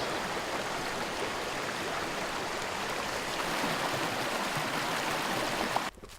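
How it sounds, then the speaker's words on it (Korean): Steady rushing water of a mountain stream, continuous and fairly close, flowing broadband with no voices, cutting off abruptly near the end. "물소리."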